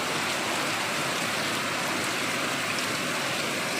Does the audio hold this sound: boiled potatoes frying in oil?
no